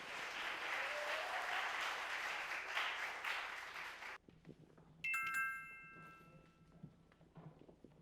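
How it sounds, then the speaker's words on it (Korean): A dense wash of audience clapping at a regional high school competition greets the first presenting team and lasts about four seconds before cutting off abruptly. A quieter stretch follows, with a brief tonal chime and faint shuffling. "첫 번째 발표팀 경일여자고등학교 SNL 팀을 박수로 맞아주시기 바랍니다"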